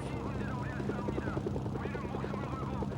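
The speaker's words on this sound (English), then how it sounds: "as much as I love this helicopter, it's not really viable" A helicopter flying in the PS2 game Mercenaries: Playground of Destruction, a steady rotor throb with rhythmic chopping pulses under a constant engine hum, heard at moderate level alongside other game sounds and no clear talking.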